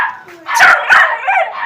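A young Walaiti Gultair puppy, about three months old, barks twice in quick, loud yips close by, with some whimpering after; someone speaks around the barks.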